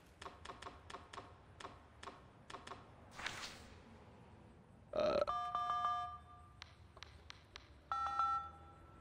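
A phone keypad dials a number in the video game FNAF: Into The Pit, a quick string of faint tap-beeps, then a burst of noise and a series of ringing and connecting tones. The sounds are quiet, with no voices.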